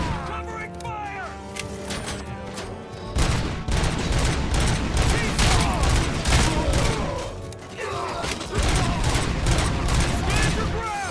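Gunfire rattles in the video game RoboCop: Rogue City: dense, continuous bursts and booms, loud and close, over a tonal music or voice bed.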